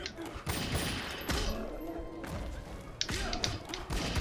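Gunfire and impacts in the fighting game Mortal Kombat 9 arrive as repeated sharp thumps and bangs in irregular bursts, close and punchy, against a busy game soundtrack.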